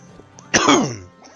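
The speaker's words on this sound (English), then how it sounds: "we're coughing in this air and the smoked air here" A single loud, close cough with a rough, rasping tail from a man who choked on water, standing out sharply against an otherwise quiet background.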